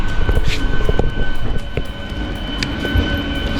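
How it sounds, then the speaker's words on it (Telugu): The Sirpur Kagaznagar–Bodhan train arrives at platform 1 of Karimnagar railway station with a loud, steady rolling rumble and scattered clanks, along with a faint high whine. "సిర్పూర్ కాగజ్నట్టు బోధన్ ట్రైన్ అయితే మన Karimnagar railway station platform number 1 మీదకి వచ్చింది"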